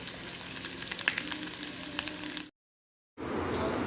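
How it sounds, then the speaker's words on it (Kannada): Grated coconut sizzling and frying in coconut oil in a pan, a steady dense crackle of hot oil that cuts out briefly before resuming just as strongly. "ತೆಂಗಿನೆಣ್ಣೆಯಲ್ಲಿ ಹುರಿದುಕೊಳ್ಬೇಕು ಸ್ವಲ್ಪ ಗೋಲ್ಡನ್ ಬ್ರೌನ್ ಕಲರ್ ಬರಲಿ"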